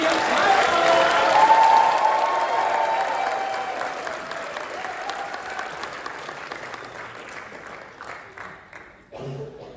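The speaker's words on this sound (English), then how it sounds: "Well, here's a round of applause. Keep it going for our next speaker." Warm audience applause with some cheering at a science comedy night during an Antarctic research conference, loudest early on and then gradually tapering off, with a voice starting near the end.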